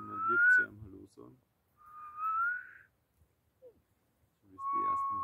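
A person whistles several sustained, clear notes outdoors, with short pauses between them, while someone speaks quietly in between.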